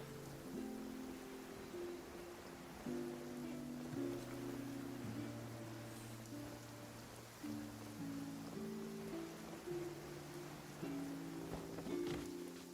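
Steady hiss of rain from the video game Genshin Impact, a soft continuous wash beneath sustained musical tones, with no talking.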